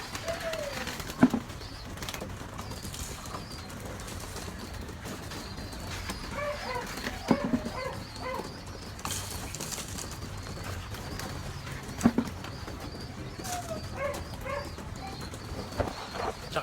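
Pigeons in a breeder's loft during rainy weather, wings flapping in a few distinct bursts over a steady low ambient bed, with faint soft cooing throughout.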